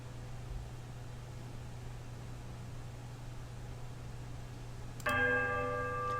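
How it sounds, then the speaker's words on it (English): A temple bell from the video game Pillars of Eternity strikes once near the end, a sudden bright, ringing peal with a wobbling tone that rises out of a low, steady hiss. "The bell sounds a strange wobbling peal that grows to a painful shrillness before it diminishes to a mournful chime"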